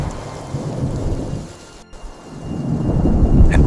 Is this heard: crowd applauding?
no